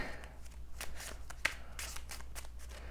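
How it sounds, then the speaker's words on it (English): Marvel Champions playing cards being shuffled by hand, a brisk run of riffling and rustling bursts close by over about three seconds with a faint background hum. "So that all shuffles"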